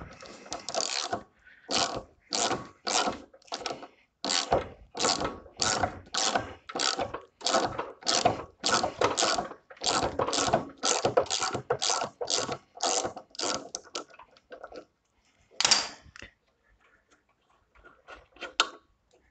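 A ratchet turns a nut counterclockwise on the motor of an electric ride-on lawnmower, giving close, rapid bursts of sharp clicks in a steady rhythm with short pauses, then a few scattered clicks and quieter handling.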